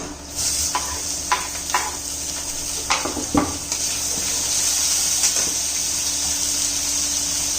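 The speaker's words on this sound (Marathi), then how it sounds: "परतून घेते हे बघा कांदा आपला तांबूस झालेला आहे त्याच्यामध्ये आता टोमॅटो घालून घेऊ आपण" Onion and tomato fry in a pan while a spoon stirs, giving a steady sizzle under a few scraping clinks of the utensil against the metal, close and fairly loud.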